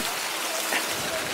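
Steady rain falls over a city square with fountains in Stavropol, a broad even hiss with no separate drops standing out, heard close and moderately loud throughout.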